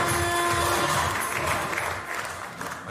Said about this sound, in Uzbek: yana bir bor davom qarsaklar bilan o'tib Azizlar